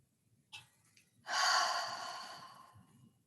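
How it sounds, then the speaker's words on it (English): A single slow, deep breath out, soft and close, following a faint intake, in a quiet room during a relaxation exercise. "breathe into it, and breathe out. Release that hard breath when you breathe out to let it go."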